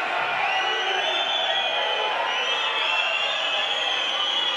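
A large, displeased sports crowd at a Skövde versus Ystads IF match roars and whistles continuously, a dense wall of jeering noise with shrill whistles cutting through.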